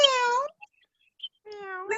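People imitating a cat at a children's fable storytelling session: two drawn-out meows, one at the start and another near the end, separated by a short quiet gap with faint sounds.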